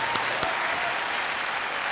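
A studio audience on a televised Hindi quiz show claps after a contestant accepts a 50 lakh rupee cheque, giving steady, dense applause that fills the full moment at a consistent level.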